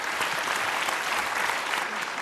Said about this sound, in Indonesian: Kita kasih tepuk tangan dong Mbak Yeni Wahid.